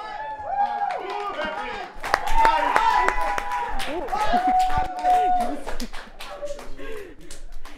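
An audience applauds after a rap performance at a live show, with a dense burst of clapping alongside cheers and whoops that swells and then thins. Several voices shout and talk over the clapping.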